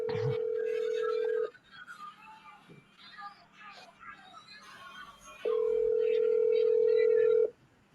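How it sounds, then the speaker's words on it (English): A telephone call being placed: a steady dial tone sounds, breaks off for a few seconds of quieter keypad activity and background noise, then the tone returns and cuts out. "Let me call him and see if he go pick up his phone."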